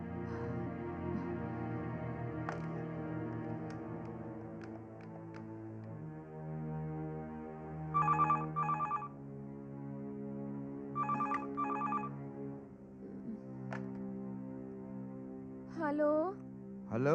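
A telephone rings during an outgoing call in a Hindi TV serial: two short bursts of ringing spaced a few seconds apart, heard under soft background music.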